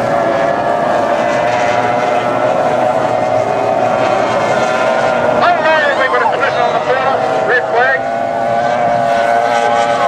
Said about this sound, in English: Now you hear the revs go up, so they're starting to get some power down the straight.